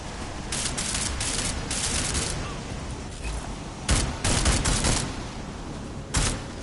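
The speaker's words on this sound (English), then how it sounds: "wondering why the gun sounded weird" Bursts of gunfire from a gun in the video game Deus Ex: Mankind Divided, several rapid volleys separated by short pauses over a steady game ambience, loud and close.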